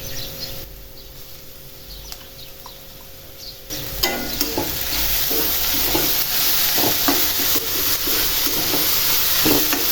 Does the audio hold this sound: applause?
no